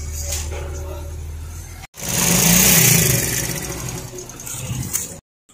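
A car pulls away from a house after being cleaned, its engine rising loud and steady as it drives off, with quieter engine noise before and a brief cut near the end.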